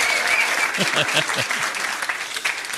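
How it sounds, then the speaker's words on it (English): A crowd claps in steady applause at a trivia quiz night, moderately close, with a few voices briefly cutting through early on before the clapping carries on alone. "give them a round of applause for trying anyway"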